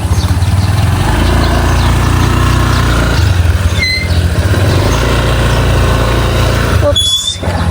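A motorcycle engine runs loud and close on a rural farm road, a continuous rumble that shifts slightly as the bike is turned and ridden, with brief faint noises over it.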